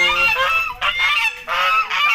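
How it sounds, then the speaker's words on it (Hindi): Ducks kept on a farm camp, gathered in the shade of a large tree, give loud nasal honking calls in three close bursts with brief gaps between them, with no talking. "ये बतखें भी हैं जो पीछे चल रही हैं"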